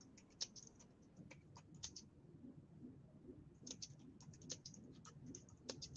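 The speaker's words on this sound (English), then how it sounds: "I'm typing the question for Rukayat" Someone types on a computer keyboard in a quiet room, with soft, irregular clicks in two short runs and a pause between them, fairly close and without talk.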